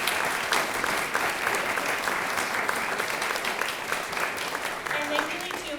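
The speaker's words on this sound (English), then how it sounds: "please give them a round of applause" An audience at a museum concert applauds, a dense, steady roar of many clapping hands sustained for several seconds with a few voices underneath.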